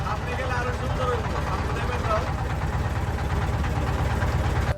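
A trawler engine runs steadily with a low, chugging throb on a river near Bholaganj, Sylhet, continuous and fairly loud under faint background noise.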